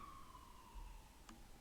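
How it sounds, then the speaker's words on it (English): Emergency vehicle sirens wail faintly from outside, a thin, gliding tone that slowly drops in pitch as it passes at a distance, heard from indoors. "I apologize for the sirens."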